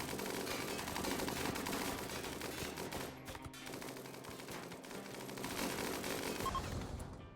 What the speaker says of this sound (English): Oh, I love that hail of gunfire damage.